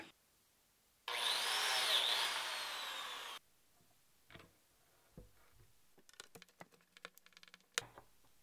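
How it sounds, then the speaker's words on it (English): A biscuit joiner plunges into the wooden back rail of a bookcase to cut Z-clip slots, giving one loud, steady whining cut of about two seconds, followed by quieter scattered knocks and handling clatter of wood. "in order to make the slots for the Z-clips in the back of the rail, I'm going to use my biscuit joiner"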